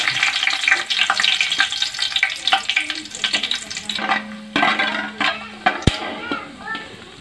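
Cinnamon, cloves and star anise sizzle steadily in hot oil for an egg and vegetable biryani, a dense crackling hiss with scattered stirring clicks, easing a little in the second half.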